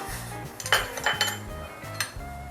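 A spoon stirs shrimp paste into boiling water in a metal cooking pot, giving a series of light clinks and scrapes against the pot at an irregular pace, close and fairly quiet with no talk.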